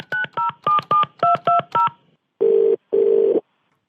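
Telephone keypad dialing for a radio prank call: seven quick touch-tone beeps in a brisk rhythm, followed by two longer ringback tones, clear and close with no talking.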